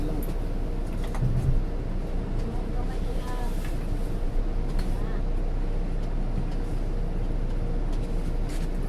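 A single motorcycle's engine drones steadily nearby on a rural road by a rice mill in Carmen, Ubay, Bohol, a continuous low rumble filling the scene while people talk faintly around it.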